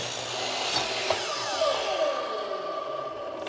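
A miter saw cutting a workpiece pinned between a flip stop block and the blade, a loud whining spin-down with rising and falling tones and a brief clatter near the start, no speech.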